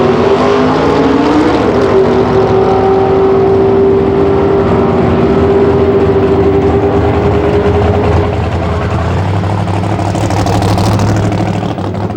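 Pro Modified race cars at Avon Park in 1998 Super Series racing roar loudly and continuously, engines held at steady high revs with a pitch shift partway through, close and dominant throughout.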